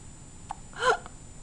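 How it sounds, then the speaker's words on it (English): A single soft baby hiccup, brief and close, in a quiet room with no talk over it. "You got hiccups."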